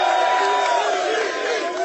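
A live TV studio crowd at a boxing-themed sports talk show, many fans in Mayweather shirts, roars, cheers and whoops continuously and loudly, with voices blended into the din.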